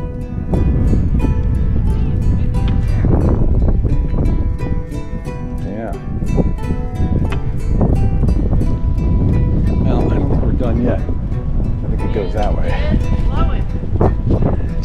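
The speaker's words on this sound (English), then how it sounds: "Very windy up here." Strong, steady wind on a mountain top buffets the microphone throughout, a continuous loud roar with gusty swells and brief dips.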